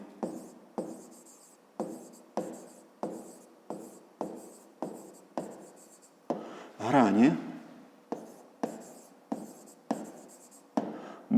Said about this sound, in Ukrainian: Записуємо тоді. Пишемо тоді